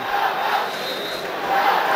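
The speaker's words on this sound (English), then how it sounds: "their crowd gets behind them" Supporters roar for Loughgiel at the 2003 Antrim hurling final against Dunloy, a dense, sustained crowd cheer filling a stadium that swells slightly near the end.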